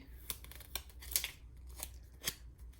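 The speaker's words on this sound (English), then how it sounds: "Let's peel off that backing." Backing being peeled from a freshly printed vinyl sticker, soft crackling tears and sharp crinkly bursts in short uneven strokes, quiet and close with no talking.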